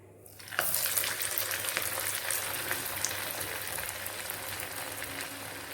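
Tapioca vada batter dropped into hot oil, setting off a steady, dense sizzle and bubbling that starts abruptly and continues close and loud to the end, with no talking.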